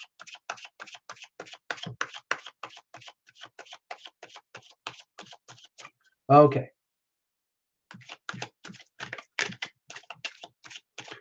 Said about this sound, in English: I think the cards are well shuffled